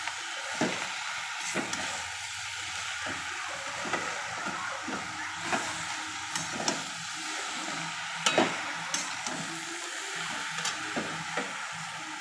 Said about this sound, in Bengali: শাকটাকে একটু নেড়ে নেব।